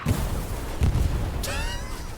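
Artillery shells boom in the WWII shooter Hell Let Loose, two heavy low blasts roughly a second apart followed by a sharp whistling crack amid continuous battlefield rumble.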